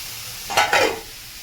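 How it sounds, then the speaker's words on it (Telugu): Grated carrot goes into hot ghee in a pan, and a short burst of sizzling and stirring rises loud and close for about half a second before settling back. "ఇప్పుడు ఈ క్యారెట్ తురుముని ఇందులో వేసేద్దాము"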